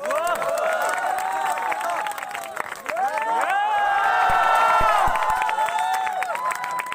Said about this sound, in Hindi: तालियां हो जाए पहले